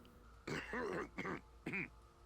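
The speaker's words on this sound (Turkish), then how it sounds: "Adam öksürdü." A man coughs three times in quick, harsh bursts in the video game Chernobylite, close and fairly loud against a quiet background.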